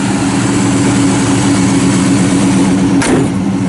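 A 1971 Chevrolet Monte Carlo V8 engine idles steadily through a Flowmaster dual exhaust with a deep, rumbling hum and a slight throaty lope, close by, with a brief sharp noise near the end.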